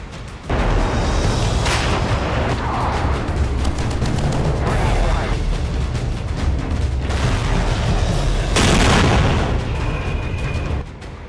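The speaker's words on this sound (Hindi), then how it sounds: "नौ मई पाकिस्तानी सेना ने शुरू की गोलीबारी।" Pakistani army gunfire and artillery fire: a dense, loud, continuous barrage of booms and cracks that rumbles on without letup, with a few heavier bursts standing out near the end.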